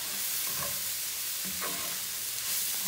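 Chopped mushrooms cook in a pan for a beef Wellington, giving a steady low sizzle with a few soft scrapes of stirring and chopping. No one speaks.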